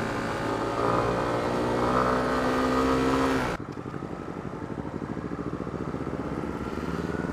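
A Honda CB150R SE motorcycle runs on the road on a first ride, its engine droning steadily with wind rush, then shifting to a rougher, pulsing tone midway, with no voices.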